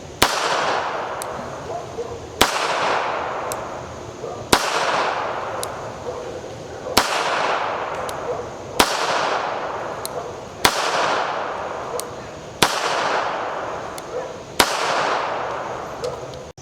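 Star Model BM 9mm surplus pistol firing 115 and 135 grain rounds: eight loud, sharp shots spaced about two seconds apart, each trailing into a long echoing decay outdoors.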